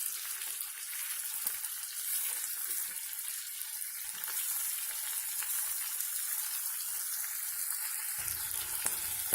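Fish fries in a pan for a masala fish curry, giving a steady, close sizzle and crackle of hot oil that carries on evenly throughout.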